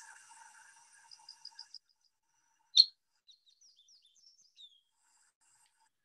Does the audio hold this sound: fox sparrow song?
yes